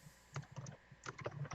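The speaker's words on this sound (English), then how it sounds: "I can hear her typing." Soft keyboard typing in two short bursts of quick, irregular key clicks, fairly close, with a faint background hum and no talking.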